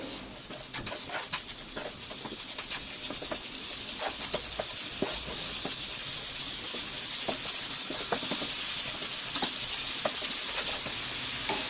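Paneer modak mixture with powdered sugar being stirred in a pan, a continuous sizzling hiss with repeated close scraping and tapping strokes of the spoon, no talking.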